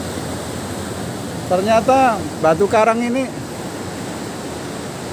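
Powerful ocean waves crash against coral rocks on a beach shore, a constant loud roaring wash with wind noise, while someone speaks over it in the middle.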